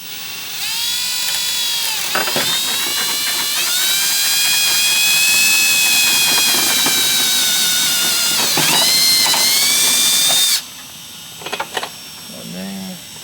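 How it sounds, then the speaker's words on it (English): A power drill bores pilot holes into an E36 carbon fiber door panel, a loud high whine running for several seconds with brief pitch dips as the bit bites, then cutting off sharply, followed by a few faint clicks and handling sounds. "So let's get the pilot holes drilled."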